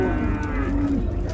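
A cow moos loudly and close at a busy cattle market in Ouricuri, Pernambuco, a Swiss-type dairy cow, one sustained low call over steady crowd and livestock noise.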